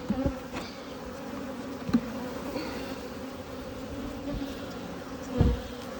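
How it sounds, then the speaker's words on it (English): Many honeybees buzz in a dense, continuous drone inside an open hive, with a few louder individual bees passing close by. "there's a lot more bees in here than there was"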